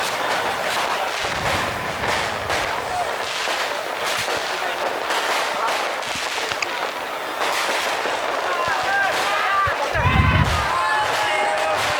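New Year fireworks at Simpang Lima bang and crackle continuously in the distance for over ten minutes, with scattered louder booms and a crowd murmuring underneath.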